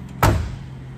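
Door of a 1972 Oldsmobile Cutlass Convertible swinging shut, a single solid close thump near the mic followed by a short fading ring, with no voices.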